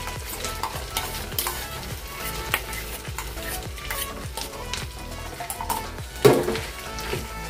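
Spice paste with ginger is stirred and fried in a pan for green peas kachori filling, with a spoon scraping in a steady, regular rhythm over a soft sizzle and one louder clatter near the end.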